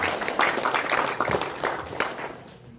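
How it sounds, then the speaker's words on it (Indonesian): Audience applause for the newly elected chairman at an IKF Keerom regency gathering, a dense burst of many hands clapping that holds steady, then tapers off toward the end. "Kita berikan aplaus kepada Bapak Ketua"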